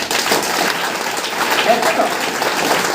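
A seated audience at a business meeting breaks into sustained applause, a dense, even roar of clapping throughout with a voice faintly mixed in.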